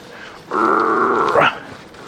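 A dog gives a single drawn-out, mid-pitched growl lasting about a second, close by and fairly loud, rising at the end, with no talking over it.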